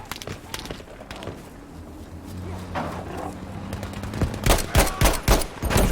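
Gunfire in the Battlefield V multiplayer game, with scattered single shots and short bursts that thicken into a loud volley of rapid cracks near the end, set against low battlefield rumble.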